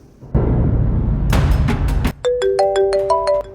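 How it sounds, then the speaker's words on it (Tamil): A phone rings in an animated Tamil cartoon episode: a burst of noisy tones gives way to a bright electronic ringtone melody of quick repeated beeps that stops abruptly. "என்ன காலையில சிவா என்ன ஃபோன் பண்றாங்க"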